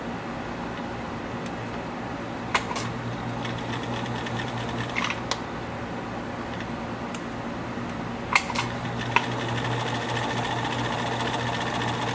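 A Kenmore 84 sewing machine stitches steadily and close by, its motor humming continuously with a few sharp clicks and clacks from the mechanism, and no one speaks.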